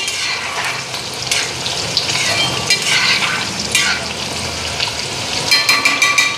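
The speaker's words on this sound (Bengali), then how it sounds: "আলুটা আর পেঁয়াজ মশলা তোমার কড়াইতে আগে ফ্রাই করে নিলাম" Loud, close sizzling of potato and onion frying in a wok, with occasional clinks and scrapes of stirring throughout.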